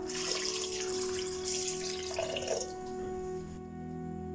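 Water pours steadily into a metal pressure cooker for about two and a half seconds, a bright splashing stream that stops, leaving a low steady hum.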